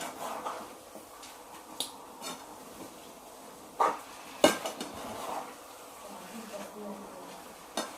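A spoon scrapes and clinks against a pan while carrot halwa with sugar is stirred, a scattering of irregular metallic knocks with a voice talking over them.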